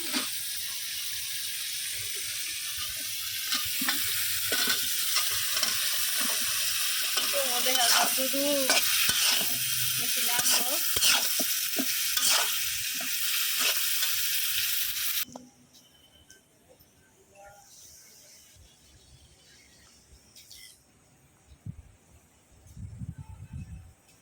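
Bottle gourd tipped into fried masala in a pot over a wood fire hisses loudly and is stirred for about fifteen seconds, then the sizzle cuts away to quiet clinks and rustles.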